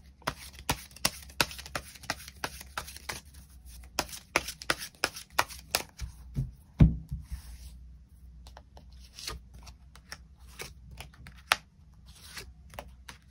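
Tarot cards are shuffled and drawn during a reading: a close, quiet string of sharp card flicks and riffles with soft rubbing in between and one louder slap midway, and no voices are heard.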